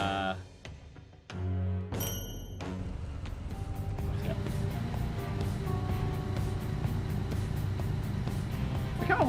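A steady engine drone with revving rises and holds throughout, mixed with game music and effects, loud and close, after a brief musical intro.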